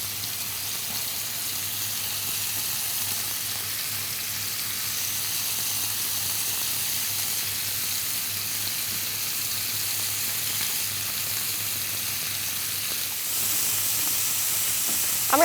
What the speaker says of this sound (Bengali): আমরা খুবই অল্প পরিমাণেই তেল দিয়েছি। আমরা চিকেনটা দিয়ে দিচ্ছি।